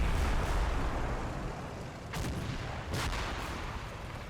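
Artillery fire in the WWII strategy game Combat Mission: Battle for Normandy comes as a continuous rumbling barrage with dull booming impacts, a couple of sharper blasts standing out near the end.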